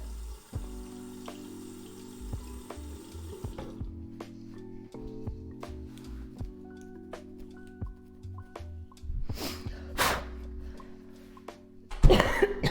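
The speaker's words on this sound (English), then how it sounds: "Still have a little bit of a cough." A few rough coughs ring out near the end over steady background music, the last one louder and closer.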